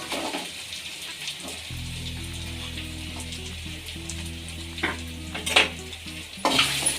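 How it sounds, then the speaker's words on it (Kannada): Sliced ivy gourd (tondekai) frying in hot oil in a pan, a steady soft sizzle with stirring clatter and a few sharper scrapes near the end, no talking. "ಇದನ್ನು ಹಾಕ್ಕೊಂಡು ಚೆನ್ನಾಗಿ ಎಣ್ಣೆಲ್ಲೇ ಫ್ರೈ ಮಾಡ್ಕೋಬೇಕು"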